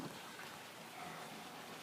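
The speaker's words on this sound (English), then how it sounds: "We'll go up top. It is raining." Steady rain patters on a 2003 Sea Ray 48 Sedan Bridge yacht, a dense, even hiss of drops on the boat's surfaces throughout with a faint low rumble beneath and no voices.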